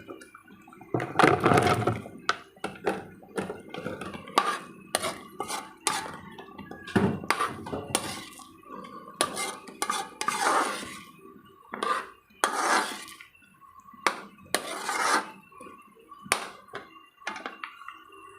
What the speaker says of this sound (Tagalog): Ngayon, lagay na natin tong chicken.